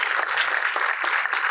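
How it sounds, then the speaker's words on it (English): Applause from a commencement ceremony crowd greets the mayor, a dense steady wash of many hands clapping at once, fairly loud and continuous without a break. "you may give him a round of applause"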